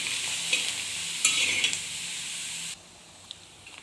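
Peanuts roasted in their shells with salt rattle and scrape in a pan as they are stirred over a low flame, a bright gritty rustle that stops abruptly, leaving near quiet with a faint tap.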